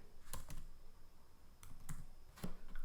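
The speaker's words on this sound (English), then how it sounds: "So let me type it here." Scattered keystrokes on a computer keyboard as code is typed, a few sharp clicks spaced irregularly, close and fairly quiet with no talking.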